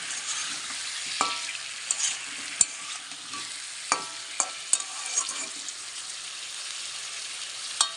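Cumin seeds frying with salt in a pan give a steady close sizzle with scattered sharp pops and stirring scrapes, alone without voices.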